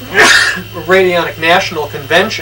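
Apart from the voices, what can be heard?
sneeze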